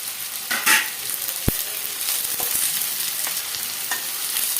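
Curry leaves and green chillies frying in a pan for lemon rice, a steady close sizzle with a sharp crackle or spatter burst and scattered stirring clinks.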